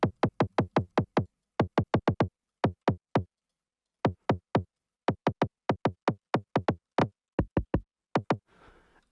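Psytrance snare synthesized in Sytrus with its pitch resampled one octave, repeated as a rapid series of sharp, punchy hits in rhythmic bursts with brief gaps, clean and alone.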